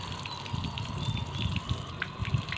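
Water poured or splashing over a pigeon taking a bath, a steady close, moderately loud wash of trickling and splashing with small irregular bursts, no talk over it.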